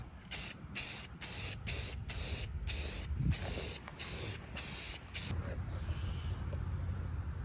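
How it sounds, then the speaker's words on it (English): Gloss clear coat is sprayed onto a helmet visor in about ten short, loud hissing bursts with brief gaps. A faint steady hiss lingers after the last pulse. "after I spray it with this gloss clear coat"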